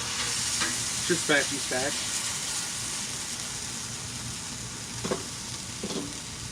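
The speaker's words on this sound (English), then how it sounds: "We're gonna give it a good little fry on both sides." Meat with sauce fries on a hot griddle, a loud continuous sizzle and hiss with occasional spatula scrapes, while voices speak briefly over it.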